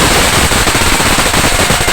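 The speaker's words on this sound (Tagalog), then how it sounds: "sumapit na po ang alas 12 at nag-umpisa na po ang mga paputok." New Year firecrackers burst at midnight in the Philippines. The crackling is loud and dense, with rapid overlapping bangs like a machine gun and no pause across the whole stretch.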